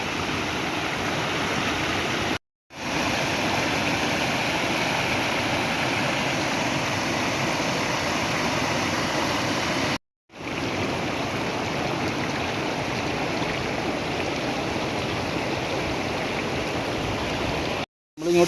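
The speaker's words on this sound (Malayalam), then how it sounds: "നമ്മളിങ്ങോട്ട് വന്ന വഴി കണ്ട ചെറിയൊരു വെള്ളച്ചാട്ടമാണ്" A small waterfall pours under a bridge near the Ambanad hills, a steady loud rushing hiss of falling water, interrupted by two brief cuts, without speech.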